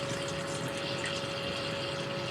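A skimmer pump on a saltwater aquarium running noisily, giving a steady, even whirring hum with a watery rush and no breaks, heard close at moderate level.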